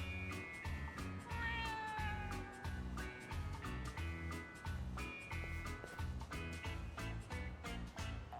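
Cats meow repeatedly in the video game Yakuza: Like a Dragon, a clear insistent run of calls over a pulsing game soundtrack.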